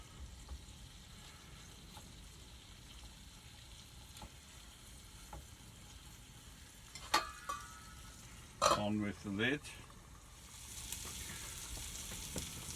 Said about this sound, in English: it's sizzling away nicely and nearly ready